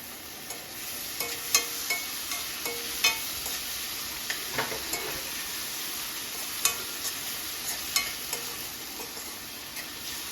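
Chopped capsicum, onion and tomato sauté for paneer bhurji, a soft continuous sizzle broken by regular sharp ticks and scrapes of a spoon against the pan, and no voices are heard.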